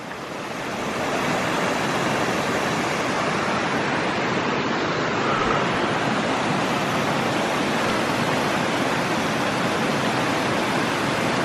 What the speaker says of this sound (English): Man, look at those cascading waterfalls.